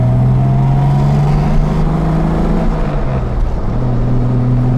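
Engine of a 1964 Jaguar E-Type Series I coupe pulling steadily while driving, a loud continuous low drone with slight pitch shifts as it changes gear, no voices.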